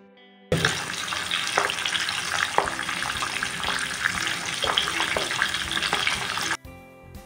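Pabda fish rubbed with salt and turmeric hit hot oil and set off a loud, dense, steady sizzle with bursts of crackling and spattering. The sizzle is heard up close with no talk.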